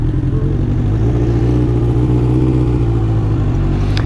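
A 1981 Honda CB900F motorcycle engine running close by, a loud, steady mid-pitched drone with a rough mechanical clatter throughout, no voices.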